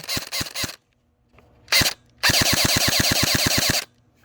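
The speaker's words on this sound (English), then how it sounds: "a rope of fully automatic gunfire" A Barra 400E Gen 2 all-metal electric .177 BB machine gun fires on full-auto in three bursts: a short rattling string, a brief spurt, then a longer rapid burst of evenly spaced shots, loud and close.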